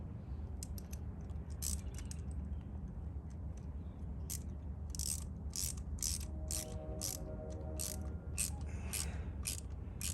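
A ratchet socket wrench clicks in rapid bursts while fitting a fuel line on a car, heard close over a steady low background hum with no talk.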